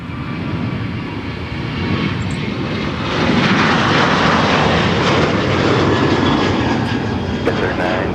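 ATR 43 turboprop at MSP airport, a loud, steady engine roar that swells in the middle and holds, heard close and continuous with no talk over it.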